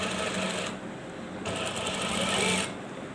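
A sewing machine stitches a two-piece collar, a rapid mechanical whirring rattle that runs in bursts with brief slowdowns between, close and steady, without talk.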